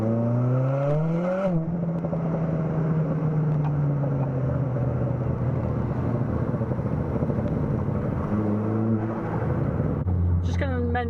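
A Ford Fiesta ST with a Stage 4 Revo turbo setup is driven hard, the engine climbing through revs, dropping on gear changes, then holding a steady loud drone before revving up again, all close and continuous.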